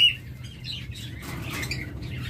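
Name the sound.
olive opaline lovebirds chirping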